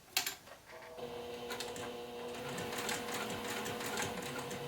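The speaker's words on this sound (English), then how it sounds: "I never sew fast, so I'm a very slow sewist." A home sewing machine stitches slowly and steadily while a fabric notepad holder is sewn with an eighth-inch presser foot, the motor whirring close up after a brief clunk at the start, with no talking.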